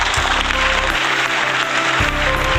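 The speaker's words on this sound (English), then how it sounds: "Big applause, ladies and gentlemen." Audience applause at an award ceremony at a film carnival at Ramoji Film City, Hyderabad: steady, dense clapping from a crowd, loud and continuous throughout, with a low rhythmic music beat underneath.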